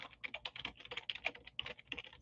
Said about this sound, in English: Y'all hear my typing skills